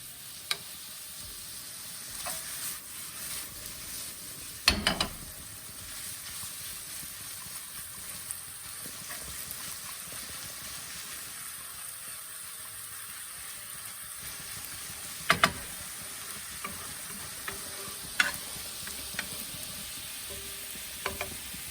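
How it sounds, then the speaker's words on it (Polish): Steady soft sizzling of onion and ham frying in a pan, with occasional clinks and scrapes of stirring, heard up close with no talking. "Mieszamy od czasu do czasu zarówno cebulę, jak i szynkę"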